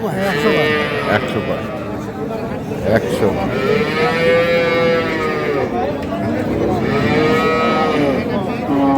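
Several dairy cows and calves, Sahiwal, Sindhi and local breeds, moo loudly and repeatedly, long drawn-out calls overlapping amid a busy crowd at Ambari cattle market with people chattering nearby.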